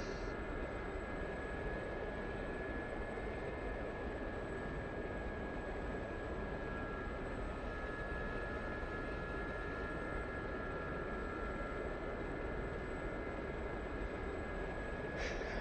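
Gazelle light attack helicopter in flight, a steady, unbroken engine and rotor drone that holds at an even level throughout without fading in or out.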